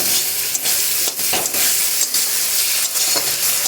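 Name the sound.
tomatoes and sugar frying in pan for fish sour dish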